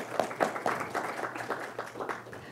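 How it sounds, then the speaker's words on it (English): Audience at a county judge and district attorney candidates forum breaks into applause, a modest crowd clapping in loose bursts that rise and thin out over a few seconds, with no speech. "How about if we hold the applause until the end"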